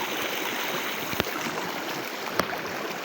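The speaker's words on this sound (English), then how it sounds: "look at how this water is a lot" Water in a wild river rushes steadily in a loud, broad, continuous flow close by, with a couple of brief knocks breaking through.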